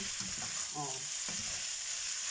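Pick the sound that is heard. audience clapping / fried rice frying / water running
fried rice frying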